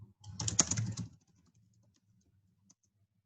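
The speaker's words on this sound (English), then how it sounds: "I think he's typing it." Brief burst of typing on a computer keyboard, a second of rapid close clicking that stops and leaves near silence with one faint tap.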